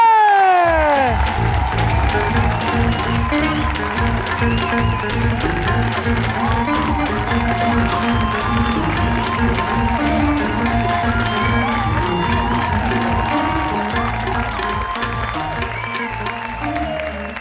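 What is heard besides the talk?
studio audience applauding a guest's entrance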